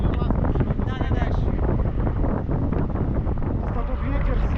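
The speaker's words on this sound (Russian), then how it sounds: "Просто тут ветер сильный, поток нисходящий разрывает." Strong wind with downdrafts buffets the microphone in a constant heavy roar during a tandem paragliding flight in Kunda, Estonia, with voices talking faintly underneath.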